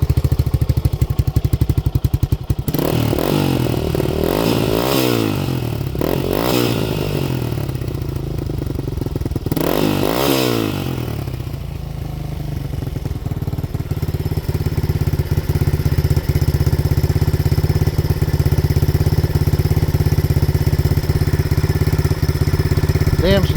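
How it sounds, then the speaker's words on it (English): A 1985 Honda ATC 200X three-wheeler with a new exhaust, revving in a few loud, rising bursts over a steady idle before settling into an even, close-up idle rumble. "let's rev her up and see what it sounds like."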